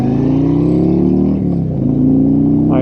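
A Harley-Davidson Road Glide Limited cruises on a highway at 70 mph, a loud, steady low engine drone with rushing wind, heard from the rider's seat.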